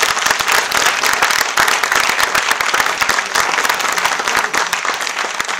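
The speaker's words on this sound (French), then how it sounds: "Il mérite un applaudissement soutenu." Sustained applause from an audience at a political gathering, dense and even clapping that holds steady without a break, close and loud.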